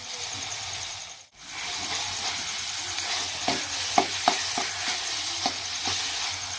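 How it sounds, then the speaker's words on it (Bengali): Chicken pieces fry and get stirred in a hot pan, a loud continuous sizzle with a brief dip, then several sharp scrapes and knocks of the spoon near the end. "চিকেনটা দেখো নেড়ে দিচ্ছে, পুরো সাদা সাদা হয়ে যাচ্ছে।"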